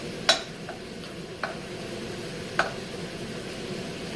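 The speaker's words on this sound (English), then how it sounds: "I'm just stirring it with my spoon instead of trying to turn over each little one." Small pieces of beef browning in a pan for beef bourguignon, stirred with a spoon: a quiet continuous sizzle broken by three or four sharp spoon scrapes and clicks against the pan.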